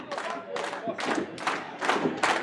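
A wrestling crowd in Lancaster, New York cheers and claps for Buckwild T. Kennedy, with rhythmic bursts of noise swelling about twice a second in a steady chant-like pattern.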